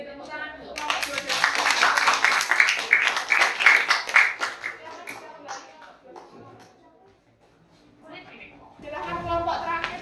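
Classroom applause from students: a dense burst of clapping for about three seconds that thins out, with chatter and shuffling, then another swell of voices and claps near the end.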